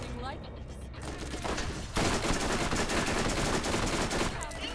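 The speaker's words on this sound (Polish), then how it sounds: "Strzelają do mnie w plecy, nieważne w którą stronę się obrócę." Enemy gunfire rattles in the Borderlands co-op video game as bursts of rapid shots come from around the player. The shots are dense and loud, and the firing thickens partway through.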